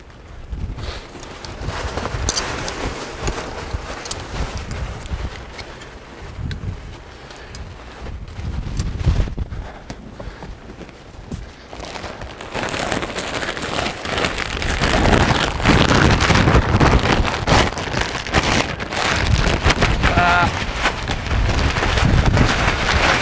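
Wind buffets the microphone aboard a 38-foot Sea Ray boat, a rough, gusty rumble that dips around the middle and grows stronger and steadier in the second half, with occasional knocks and no talking.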